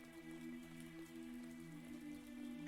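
Light rain patters steadily in the video game Rain on Your Parade, a soft continuous hiss of drops under a low humming game tone, faint and unbroken.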